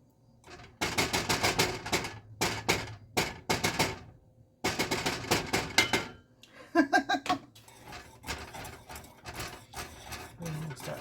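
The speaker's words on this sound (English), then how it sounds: "We're going to start stirring this because I don't want to scorch the bottom of the pan" Metal spoon scraping and clinking in a pan of dairy-free pumpkin spice coffee creamer, in irregular bursts of close, crisp stirring taps, then softer scraping with faint background noise.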